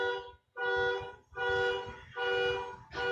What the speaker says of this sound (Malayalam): അതിനായിരിക്കും ഈ കിടന്ന് ഹോൺ അടിക്കുന്നത്